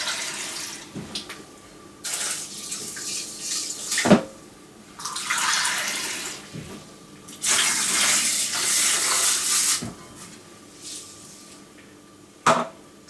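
Water runs and gushes in several separate bursts, splashing into a rice cooker with two cups of rice, with brief clanks and knocks of handling between pours.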